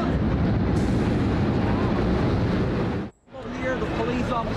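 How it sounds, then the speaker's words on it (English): A huge explosion at the World Trade Center towers, heard as a loud, continuous, close roar with debris raining down. It cuts out briefly about two-thirds of the way through, then resumes. "A huge explosion now raining debris on all of us."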